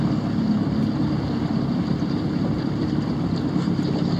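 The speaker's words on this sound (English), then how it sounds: "Got a crosswind, folks." A crosswind blowing across a lake while fishing from a boat, steady loud buffeting and roaring against the microphone, continuous with no voices.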